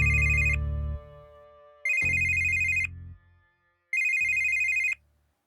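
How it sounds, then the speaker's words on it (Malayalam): A mobile phone ringtone rings three times in loud, even electronic bursts with short pauses between them, close by and with no voices over it. "ഫോൺ അടിക്കുന്ന ആരാന്ന് നോക്കട്ടെ."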